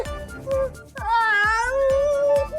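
A cat lets out several drawn-out, wavering meows, loud and close, the longest one stretching over more than a second; sharp knocks and thumps punctuate the calls.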